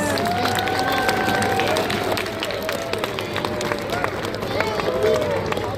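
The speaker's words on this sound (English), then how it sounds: "Can we all please give her a huge round of applause?" Audience applause fills an indoor sea lion show at West Edmonton Mall in Edmonton, Canada: steady, dense clapping from a crowd with whistle-like tones and chatter running through it for the whole stretch.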